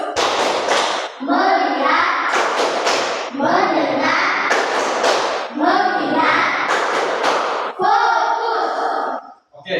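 Classroom children clap in unison during a counting clap chant game, bursts of sharp group claps alternating with their chanted lines in a steady rhythm.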